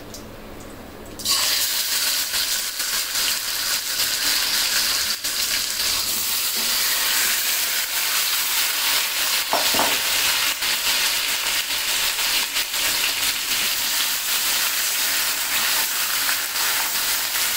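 Marinated chicken pieces with the legs left on hit a pan of hot oil over medium heat, bursting into a loud, steady sizzle that continues throughout alongside stirring sounds.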